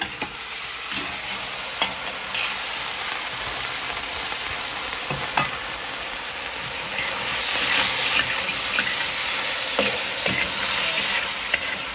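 Peanuts are stir-fried over high heat in a pan for kung pao shrimp, giving a steady close sizzle with intermittent clicks and scrapes of stirring throughout.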